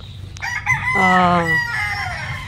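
A rooster crows once on a small backyard chicken farm, a loud, close cock-a-doodle-doo with a rising, drawn-out call, with faint clucking and a murmur of voices around it.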